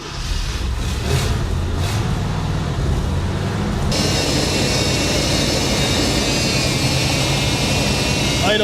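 A 1966 Ford Thunderbird engine with a clogged carburetor idle circuit runs nearby with a steady, uneven drone, turning noticeably louder and harsher partway through.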